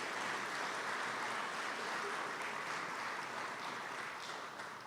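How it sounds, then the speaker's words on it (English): Sustained applause from a trade show event audience honoring sponsors, a steady dense wash of clapping that holds evenly throughout and fades slightly at the end. "Please give them a large round of applause."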